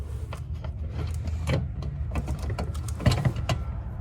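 A bolt is screwed in from below into a rear diffuser on a 2015-2023 Dodge Charger, giving close, intermittent ratcheting clicks and short mechanical rasps with no talking.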